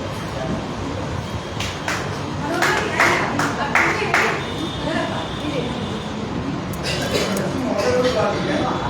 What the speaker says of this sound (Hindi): एक बार जोरदार तालियां बजाएं उनके लिए